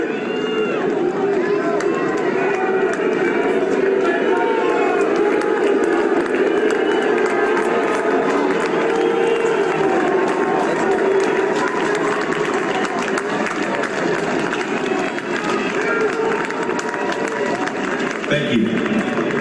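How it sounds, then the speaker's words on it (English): Stadium crowd applauding and cheering, a dense, steady wash of clapping and voices that holds at full loudness throughout, heard as part of a played video. "And then they all applaud and everything."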